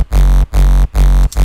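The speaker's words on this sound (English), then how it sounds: "So you got a sub solo, sounds like this." Loud, deep sine-wave sub bass notes pulsing in a steady rhythm, a smooth low hum roughened by added distortion harmonics, briefly gapping between each note.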